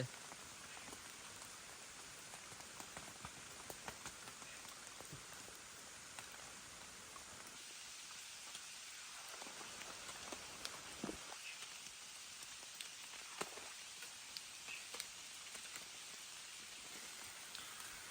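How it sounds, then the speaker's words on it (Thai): Steady rain falls through a forest canopy, a dense, even hiss of drops pattering on leaves and ground that runs unbroken for the whole stretch, fairly close and with no voices over it. "ฝนก็ยังตกปลลอยนะ"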